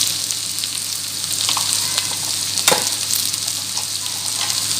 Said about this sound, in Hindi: प्याज फ्राई हो गया। अब मैं डालूंगी इसके अंदर 1 चम्मच नमक डालूंगी, थोड़ी सी हल्दी डालूंगी